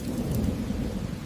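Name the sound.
rain falling with thunder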